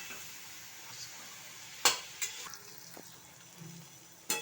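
Spice paste and potatoes fry for chital fish kalia with a soft, constant sizzle, broken by a few sharp clinks and scrapes of a spoon against the pan.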